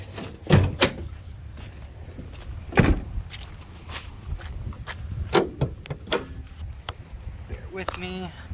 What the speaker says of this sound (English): Let me open up the hood.